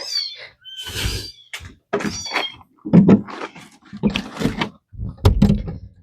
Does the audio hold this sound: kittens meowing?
yes